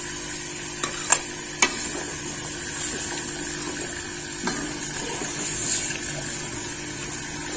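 Chopped masala and tomatoes fry in a pan with a soft steady sizzle, broken by a few sharp clinks of a spoon stirring against the metal, quiet and close with no talking.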